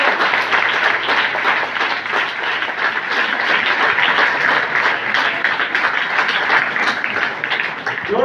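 Audience at a government college prize-giving in India applauding a first-prize winner, dense sustained clapping throughout, loud and close, with some voices mixed in.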